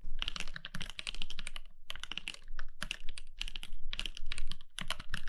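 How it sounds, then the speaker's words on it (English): Mechanical computer keyboard typed in quick, dense bursts with short pauses, crisp clacky keystrokes close and fairly loud, no voices. "I love that keyboard."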